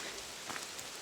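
Steady rain pattering on the Appalachian Trail, a dense, even hiss of drops on the ground and foliage, with no voices.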